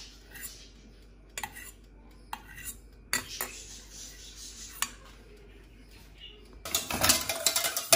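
Sabayon whisked in a pan with a metal whisk, giving light clinking and scraping taps in short bursts, then a louder, busier stretch of rapid metallic rattling near the end.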